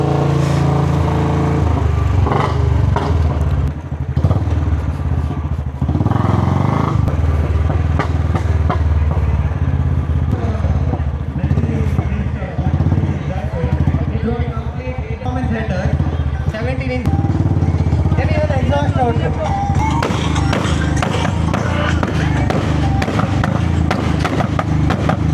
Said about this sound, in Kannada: ಈಗ ಬೈಕ್ ವಾರ್ಮ್ ಅಪ್ ಆಗ್ತುಂಟು ಸೌಂಡ್ ಕೇಳ್ತದಲ್ಲ